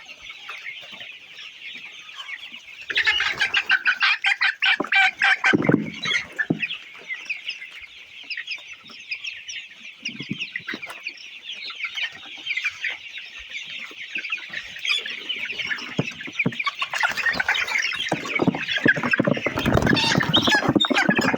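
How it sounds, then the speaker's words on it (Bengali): Colour bird broiler chickens cluck and squawk continuously at a poultry farm as they are caught for weighing, with bursts of flapping and agitated calls. "আমাদের তিনটা বড় সাইজের মুরগি নেওয়া হয়ে গেছে"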